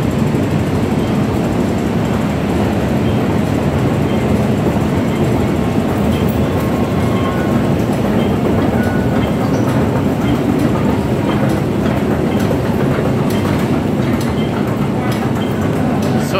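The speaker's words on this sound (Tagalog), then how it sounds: "Ayan yung train, wala nang sakay." A Hong Kong MTR train passes nearby, a loud steady rumble of wheels with clickety-clack rail beats running throughout.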